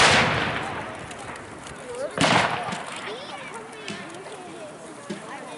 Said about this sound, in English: these are the men who have been shooting at the redcoats thus far